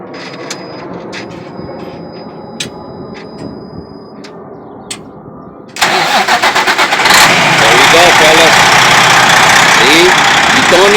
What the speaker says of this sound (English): when my wife turns the truck on, it should crank right up.